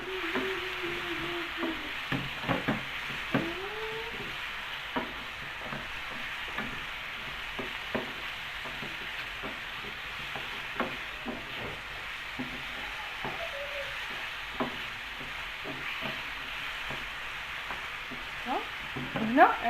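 Diced liver sizzles in a pan as it is stirred, a steady frying hiss broken by frequent scraping and clinking stir strokes, close and continuous with no talk.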